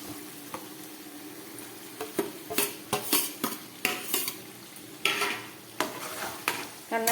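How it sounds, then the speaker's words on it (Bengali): Grated onion goes into a pan of cooking broiler chicken curry, followed by repeated scraping stirs of a utensil against the pot over a low sizzle, each stroke distinct and close. "এই গ্রেট করা পেঁয়াজটাও আমি এর মধ্যে দিয়ে দিচ্ছি।"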